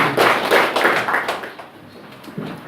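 A handful of listeners clap at a feng shui lecture in Korea, a short burst of close, distinct claps that fades within about a second and a half, followed by a quiet room with a faint thump near the end.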